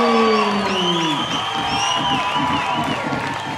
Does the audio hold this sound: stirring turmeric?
no